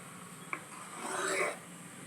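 A spoon scraping and rubbing around a pot while homemade ghee is stirred, one sharp tap followed by a swelling rasping stir, quiet and close.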